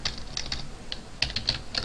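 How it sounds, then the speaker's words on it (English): Fast, uneven typing on a computer keyboard, a run of light clicking keystrokes close up, heard alone with no talking. "Why am I not typing right today?"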